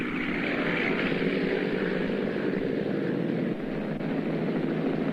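Propeller airplane Miss Daily News drones in flight, a loud steady engine and airscrew hum heard from close by, with a brief dip near the end and no talk.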